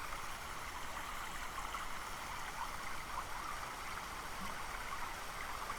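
A continuous, gentle rush of flowing water, like a stream, in the game Virry Safari: Wild Encounters, holds steady and unbroken throughout at a low, even level.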